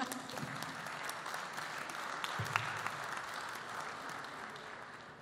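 Audience at a World Bank development finance forum applauding, a soft, steady patter of many hands heard from a distance, continuing evenly throughout.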